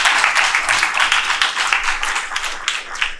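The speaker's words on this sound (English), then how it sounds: "Let's give Julia another round of applause." A hackathon audience at a Microsoft tech and education talk applauds speaker Julia, a dense, steady burst of clapping from many hands that stays loud throughout and stands alone.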